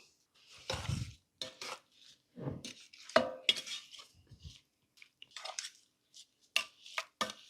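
Brown sugar being stirred into a dish bound for a Pit Boss smoker produces intermittent scraping, clinking utensil strokes and soft squishing, close and fairly quiet with pauses between bursts.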